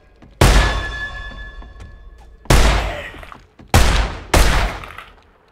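Four loud close gunshots in the 7 Days to Die survival game, each a sharp blast with a decaying echo tail, spaced unevenly with the last two in quick succession.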